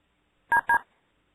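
Two quick phone keypad tones pressed while unmuting a phone on a conference call, short clean beeps in close succession against near silence.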